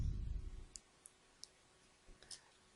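Several faint, sharp computer mouse clicks, spaced irregularly, after a brief low rumble at the start in an otherwise quiet room.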